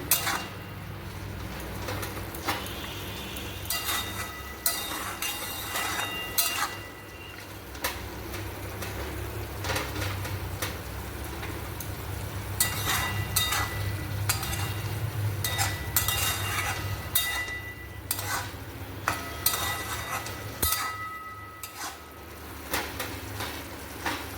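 Curry with garam masala stirred in a pan, quiet intermittent scrapes and metallic clinks of a spoon against the pan spread over a soft background sizzle.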